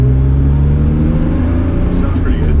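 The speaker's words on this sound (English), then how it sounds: "we are taking the E36 out for a drive now" A BMW E36 M3 with 215,000 miles drives on a wet road, its engine a steady low drone heard from inside the car, with faint tyre hiss and brief high squeaks near the end.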